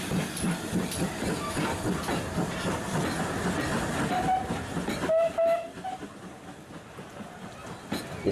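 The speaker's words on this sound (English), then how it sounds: "The steam engine is heading down the line to the station where we started." A steam train on a heritage railway in Gloucestershire rumbles along the track with a steady clatter, then a brief whistle sounds before the noise fades to a quieter, distant rolling.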